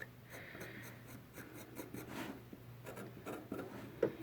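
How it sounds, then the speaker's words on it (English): Tool trimming around a clay doll to shape it, soft scraping and rubbing strokes close by in a quiet, steady rhythm, with a low constant hum underneath. "I'm just like trimming around just to kind of give it the right shape"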